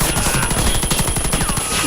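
Rapid gunfire from a shooting video game rattles in a fast, dense burst of repeated shots, loud and continuous throughout.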